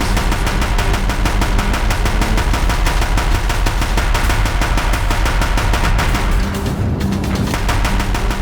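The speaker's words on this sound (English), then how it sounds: "If the Deathbringers keep firing, this bridge will go" Heavy machine guns of the Deathbringer machines fire in relentless rapid bursts during a climactic boss battle in Horizon Zero Dawn, loud and continuous, briefly thinning near the end.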